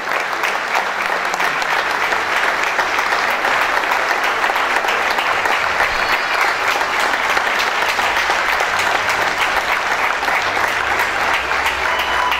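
An audience at a youth award ceremony gives loud, sustained applause, a dense, even wash of clapping that holds without a break for over twelve seconds.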